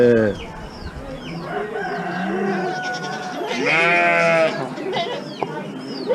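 Goats bleating loudly among sheep, chickens and other small livestock at a small animal auction, calls repeating over a busy barnyard din, with one long, strong bleat near the end and a person talking faintly underneath.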